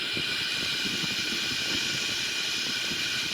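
Boeing 777-300ER reverse thrust on landing in a flight simulator game, a steady broad engine roar with a high whine, constant and fairly faint throughout.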